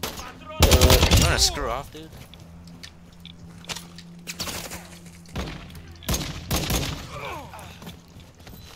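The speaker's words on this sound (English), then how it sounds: "Is this a marksman rifle I'm using?" Bursts of marksman rifle fire in Call of Duty Warzone DMZ, loud sharp reports clustered near the start and again later, with a player talking in between.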